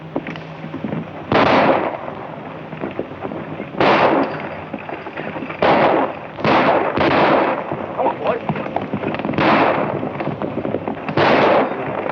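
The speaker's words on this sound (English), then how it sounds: "I want you to fire over their heads." Gunfire in an old Hollywood film as shots are fired over people's heads: loud, sharp blasts ring out at irregular intervals, about eight in all, over a steady rumbling background.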